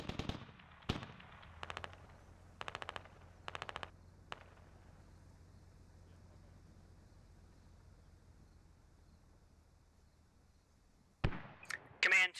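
Sharp bursts of explosions and rapid blasts pound a compound in the military shooter Squad, coming in short clustered volleys, then a long quiet stretch before a louder final barrage.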